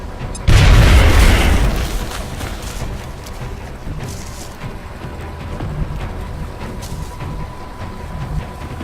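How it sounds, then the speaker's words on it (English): A grenade blast in the XCOM strategy game, one loud booming explosion near the start that decays into a rumbling tail, followed by low ambient game noise. "throw a grenade, which will remove his cover and damage the thin man"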